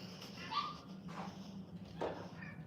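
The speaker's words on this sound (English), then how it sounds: "My dog is making noise." A dog whines and yips softly in a dim room, three short faint high-pitched whimpers spaced about a second apart over a low steady hum.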